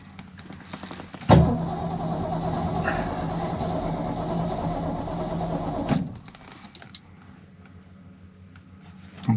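A 1966 Ford Mustang with a 289 V8 cranks on its starter for about five seconds in one steady loud whirring run, beginning and ending with sharp clicks, then quiet with faint clatter.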